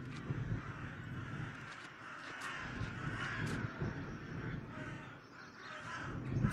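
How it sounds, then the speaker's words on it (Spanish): Several video-game crows caw at a distance over a steady windy, rustling ambience, the calls scattered and fairly faint. "Ahora entonces hay que escuchar a los cuervos."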